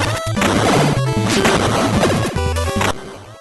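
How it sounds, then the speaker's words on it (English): Busy NES chiptune soundtrack from TMNT 3: The Manhattan Project, with beeping square-wave melodies and crunchy noise percussion, loud and dense, ending abruptly. "this is an 8-bit soundtrack we're talking about, still it sounds really good"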